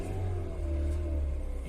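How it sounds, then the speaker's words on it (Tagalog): Kia Cerato engine idling cold with piston slap, a close, continuous low mechanical drone carrying a rapid, even knocking clatter. "Piston slap siya."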